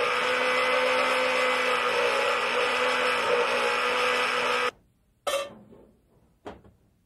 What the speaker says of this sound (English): we'll blend it until it's well combined